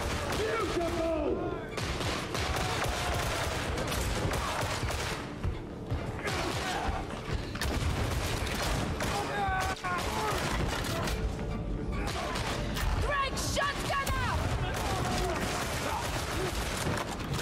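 Gunfire in the video game Warhammer 40,000: Darktide, a dense stretch of loud, crackling shots and impacts layered with game effects and background chatter, running nearly continuously.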